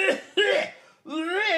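A voice imitating a man's harsh coughing, three raspy bursts in quick succession, close and loud.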